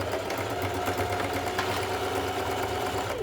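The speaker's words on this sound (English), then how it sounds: "we're just gonna sew another row close to the line that we've already sewn" A sewing machine runs steadily while stitching a straight row close to an existing seam on a fabric bag, its fast even whir loud and continuous.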